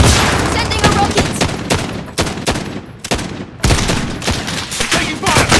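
Call of Duty: Warzone gunfire: loud, rapid bursts of shots in quick succession, fusillade-like and sustained across the whole stretch, with a brief lull near the middle before firing resumes.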